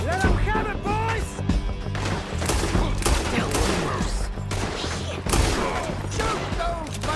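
Rapid gunfire in a Red Dead Redemption 2 town shootout, with repeated overlapping shots and volleys cracking throughout, mixed with shouting voices and game sound effects.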